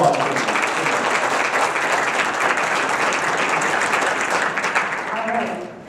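Loud, sustained applause from an audience at a music educators' association presentation, a dense even roar of clapping that fills the whole stretch.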